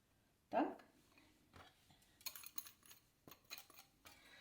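A utensil clinks and scrapes against a bowl while custard cream of eggs, flour and sugar is stirred, quiet and close, with a few sharper knocks.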